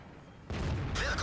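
A tank cannon shot lands a hit in World of Tanks as a sudden loud boom breaking in after a quiet moment, followed by rumbling impact noise and a second sharp burst.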